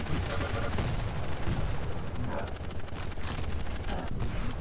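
Constant machine-gun-like rattle from an audio bug in a Quake Champions match, a steady stream of rapid shots that runs unbroken throughout at even loudness, mixed with other arena game noise.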